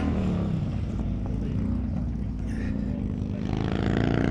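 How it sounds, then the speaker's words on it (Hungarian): Motorcycles at the start of a race, a dense, continuous engine roar that fills the whole clip at steady loudness, with a rising whine near the end and faint voices mixed in underneath. "Most éppen motorosok indulnak a versenyen."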